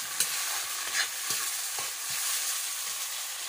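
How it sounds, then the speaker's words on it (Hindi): Chopped tomatoes sizzle steadily in a hot pan, with a soft, continuous frying hiss broken by light scraping stirs. "पकाती हूँ टमाटर को।"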